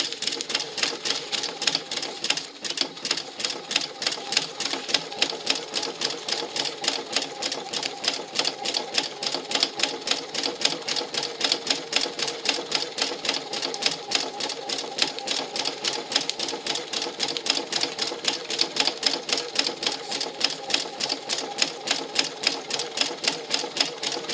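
A sewing machine stitches a zigzag seam in fabric, its needle running a fast, steady mechanical rattle close by, uninterrupted throughout with no talking.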